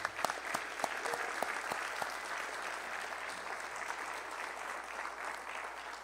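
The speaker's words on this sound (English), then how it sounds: "Can we give our mayor a big round of applause again, please?" An audience claps steadily, a dense patter of many hands with a few sharp nearby claps, fading slightly toward the end.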